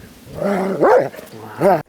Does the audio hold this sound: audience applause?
no